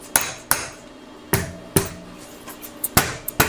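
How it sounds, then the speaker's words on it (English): A hammer strikes a part on an e-bike under construction, landing about eight sharp metallic blows in an uneven rhythm, loud and close, with no voices. "I'm gonna get a hammer and smack that thing in the spot"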